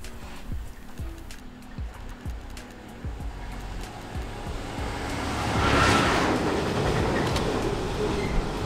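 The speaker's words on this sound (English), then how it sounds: "there's a Freightliner coming down from Tyne Yard to Doncaster" A Freightliner freight train rumbles past at a distance between Tyne Yard and Doncaster, its steady roar swelling and fading slightly, with faint rhythmic clicking over the rails.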